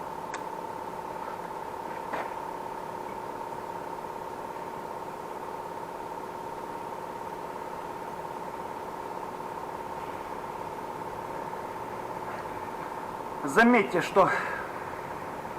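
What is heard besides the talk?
motorcycle engine running before disassembly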